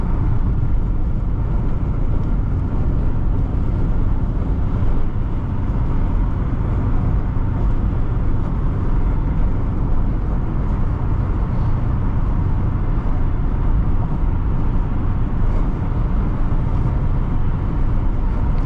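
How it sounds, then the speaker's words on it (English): Steady road and wind rush inside a 2006 Subaru Forester 2.5 X with frameless windows while driving, a loud continuous broadband roar with no breaks or voices. "The frameless windows do pronounce a little bit of wind noise."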